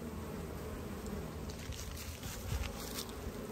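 Honey bees at a backyard hive, colony building up and bringing in pollen, give off a steady, dense hum close by, fairly quiet and even throughout with no voices.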